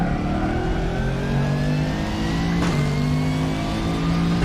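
A race car engine in the RaceRoom racing game at Bathurst revs hard and loud, its droning whine climbing steadily, dropping briefly at a gear change, then climbing again.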